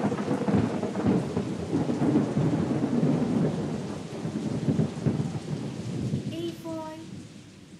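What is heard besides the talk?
thunder and rain starting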